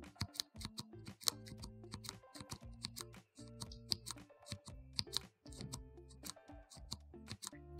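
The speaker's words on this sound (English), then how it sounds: "So let's hear the click sound of the lock switch." Cherry MX lock keyboard switch pressed repeatedly, giving a sharp, close, irregular series of clicks and clacks with short pauses between groups.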